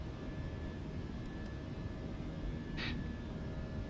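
Airbus A320 jet engines in the Fenix A320 flight simulator give a steady, broad roar that holds evenly throughout, with a brief higher hiss near the end and no talking.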